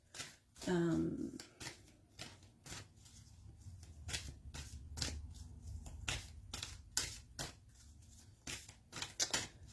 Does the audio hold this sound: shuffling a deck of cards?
yes